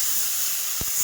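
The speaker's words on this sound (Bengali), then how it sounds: "কষার জন্য দিয়ে দিচ্ছি একটুখানি জল" Water poured into a pan of frying spice paste of ground nuts, coriander, cumin, ginger and chili powder, producing a steady loud steamy hiss with a couple of faint low knocks near the end.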